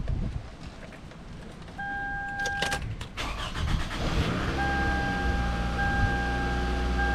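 A 2005 Toyota engine cranks with a rapid stuttering whir, catches, and settles into a steady low idle hum with a faint high whine.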